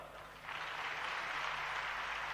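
A crowd at a folk gathering breaks into applause that swells after a brief quieter start and holds as a steady, fairly distant wash of clapping.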